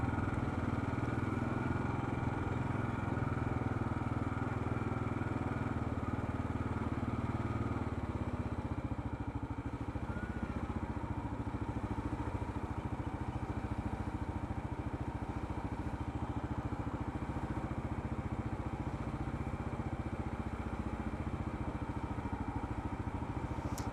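A KLR 650 motorcycle rides through tight spots around Waikiki, Hawaii, its engine holding a steady, fairly loud drone with a slight pitch shift partway through, and no one speaking.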